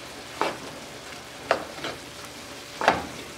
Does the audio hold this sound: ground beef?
yes